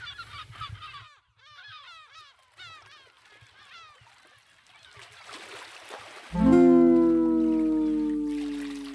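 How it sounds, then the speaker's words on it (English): Birds calling on an island: a dense mix of honking, squawking calls, some near and some distant, with a loud low rumbling swell rising at the end. "but with lots of birds in the background."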